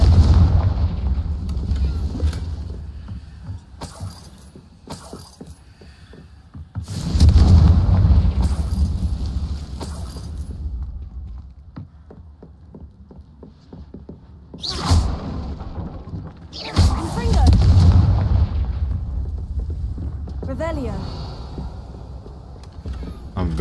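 Booming fire-spell explosions from Confringo in Hogwarts Legacy, several heavy blasts spaced across the stretch with rumbling tails, under occasional game sounds and a speaking voice.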